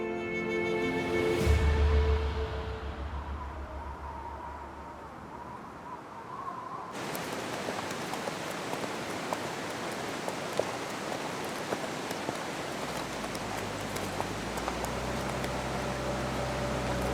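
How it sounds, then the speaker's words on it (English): Constant icy rain falling in Zanskar near Kargyak, a steady dense hiss of drops throughout, with a brief low rumble near the start and faint soft tones in the background. "This morning, the constant icy rain gradually turns to snow."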